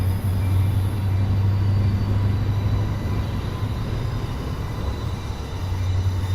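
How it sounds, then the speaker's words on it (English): A freight train rolls past in Miami with a continuous low rumble and steady droning hum, loud and close, its tone shifting slightly as the cars go by, with no voices. "Looks like we got the cargo or freight trains coming by."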